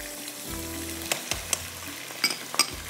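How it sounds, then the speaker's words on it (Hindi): Minced meat with turmeric, green chillies, ginger, garlic and salt frying over high heat in a pan, a steady close sizzle with occasional sharp pops and stirring scrapes. "इसको तेज़ आग पर हमने भूनना है"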